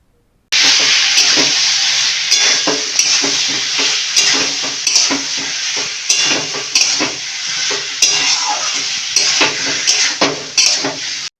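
Ground spice paste being stirred into boiled vegetables in a pot, with stems of greens, ridge gourd and pointed gourd, heard as loud, close, repeated spoon scrapes and clinks over a continuous sizzle.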